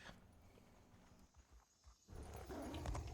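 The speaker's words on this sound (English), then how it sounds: "look at those beautiful normal horses" Faint hoofbeats of video game horses clip-clop in a quiet scene, a few soft thuds, then the sound grows louder and busier toward the end.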